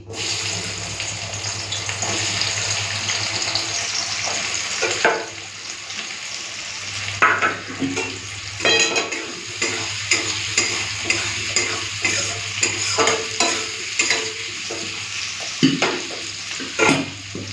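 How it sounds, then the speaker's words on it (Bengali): Chopped onion fries in oil with a little sugar and salt in a pan. A loud, steady sizzle runs throughout, broken in the second half by repeated scraping stirs that come in short, regular bursts. "পেঁয়াজটা লাল করে ভেজে নেব"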